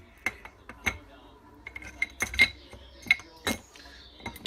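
A motorcycle chain is fed through the sprocket during a top-end rebuild of a 1976 Honda CB550, giving sparse, irregular metallic clicks and light clinks, close and fairly quiet, with no talk.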